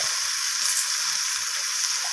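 Poppy seeds frying and being stirred in a pan for Bengali fenugreek greens stir-fry: a steady, even sizzle with a bright hiss, close and continuous, no voices.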